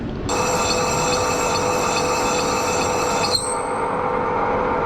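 A lathe cuts a chamfer on the edge of a three-piece alloy wheel for a Suzuki Cappuccino, giving a steady, loud, high-pitched squealing whine that starts abruptly and runs nearly unchanged for about three seconds before easing off.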